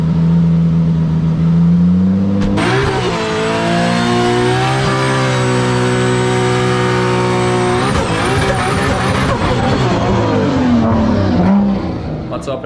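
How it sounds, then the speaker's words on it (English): A 900 bhp BMW E92 Eurofighter does a burnout, its engine revving hard and holding a loud, close, sustained tone with pitch swings, joined by tire squeal, with no voices. "let's do a little burnout to start it off"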